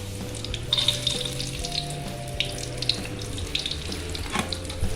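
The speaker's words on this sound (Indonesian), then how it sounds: "Yang pertama kita goreng dulu kemirinya." Candlenuts fry in hot cooking oil, giving off a continuous crackling sizzle with small scattered pops above a low steady hum, close by and moderate in level, with no voices.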